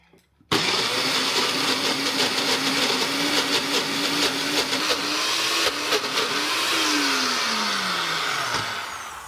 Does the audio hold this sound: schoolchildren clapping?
no